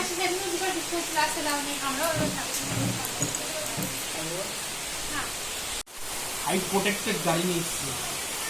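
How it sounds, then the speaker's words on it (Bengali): Heavy rain pours steadily in a broad, constant wash of noise, loud and close, with people talking over it throughout and a brief dropout near the end. "প্রচন্ড বৃষ্টি বৃষ্টি হচ্ছে"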